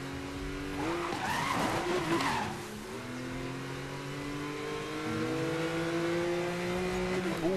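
Car drifting in Need for Speed Most Wanted, with long tire squeals and skids over a steady revving engine drone, loud and continuous, no talk.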